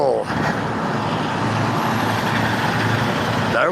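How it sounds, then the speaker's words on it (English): An Eagle fuel truck rumbles past on a road, a loud broad engine roar sustained throughout with traffic noise, close to the listener. "There went an Eagle fuel truck."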